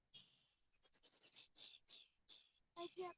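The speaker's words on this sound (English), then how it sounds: "We're surrounded right here by red-winged blackbirds." Red-winged blackbirds call in a series of short, bright chirps and trills, fairly close and alone, with a louder burst near the end, heard at a lakeside fishing spot.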